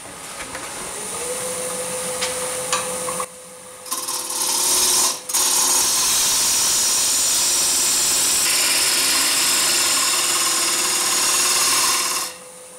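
Wood lathe spinning a cross-grain wooden goblet blank at about 1,000 RPM, a loud steady whir with a sustained tone and broadband cutting hiss, briefly interrupted twice, running alone without talk.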